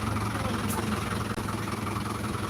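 A truck engine idles at a steady, loud rumble while a lorry of mini tractors is unloaded, a continuous drone without any breaks.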